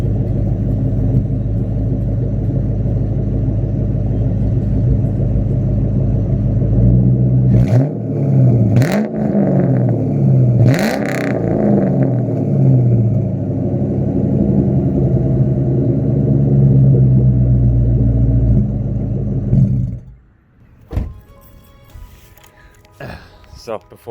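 New Edge Ford Mustang idling with 5-inch exhaust tips, a deep, loud rumble broken by a few sharp revs that rise and fall, then the engine cuts off and talk follows.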